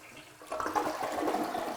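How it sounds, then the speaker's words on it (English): A toilet flushes up close, water rushing and draining steadily for over a second with no talking, after a short quiet moment, while leak-detection tabs are being used. "the first thing that you have to do is actually flush your toilet"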